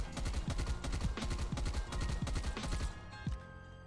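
Burst-fire video game rifle, a perk-bred variant, firing about seven rapid, evenly spaced three-round bursts at close range, loud and sharp with no talk over it.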